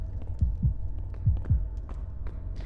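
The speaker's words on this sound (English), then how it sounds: "I heard my heartbeat" Heartbeat in the video game Forewarned: heavy low double thumps repeating in a steady lub-dub rhythm over a humming background, with no voices.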